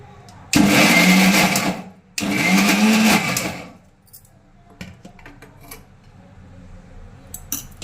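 A mixer grinder whirs loudly in two short bursts while grinding puntikura (gongura) chutney, followed by quieter clinks and handling of the jar and dishes.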